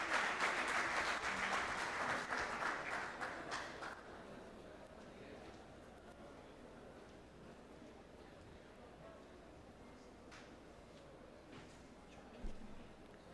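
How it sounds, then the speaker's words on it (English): An audience at an English-teaching forum in Jazan applauds to welcome a guest speaker, with a dense burst of clapping that tapers off after about four seconds into quiet room tone and a stray thump. "help me with big applause to welcome Mr."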